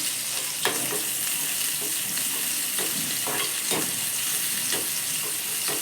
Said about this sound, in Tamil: இது ஆயிலே நல்லா வதங்கட்டும்